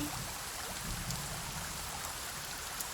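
Rain in the survival game Sons of the Forest falls as a steady soft hiss with faint scattered drops. It stays low and continuous with no talking.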